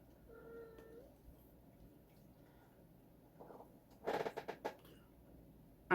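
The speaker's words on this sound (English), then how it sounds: "Ignore the screaming cat in the background." A female cat in heat gives a few wailing yowls indoors: a drawn-out tonal cry near the start, then a louder burst of harsh, rapid caterwauls around the four-second mark, with quiet room tone between.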